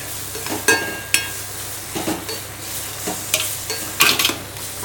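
Mango thokku pickle being stirred in a pan, close scraping and clinking of a spoon against the pan over a soft sizzle, in irregular bursts.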